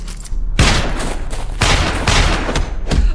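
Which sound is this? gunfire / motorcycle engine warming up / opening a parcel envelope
gunfire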